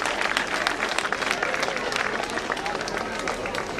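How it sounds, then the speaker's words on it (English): Lively applause fills a school hall as an audience welcomes children onto the stage for their annual day performance, loud, close and dense, with scattered voices in the crowd. "Let's give the children a big hand of applause and let's welcome them on the stage."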